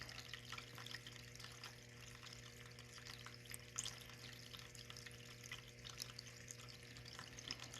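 A small desk fountain runs with a faint, steady trickle and light splashing under a low hum, continuous and quiet with no voices.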